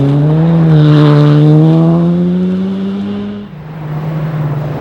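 A Group 5 rally car at full attack on a fast, open forest stage, engine roaring loud and close with rising revs, then a sudden shift in pitch as it passes and the note drops away.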